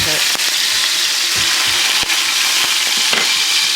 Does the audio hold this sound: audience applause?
no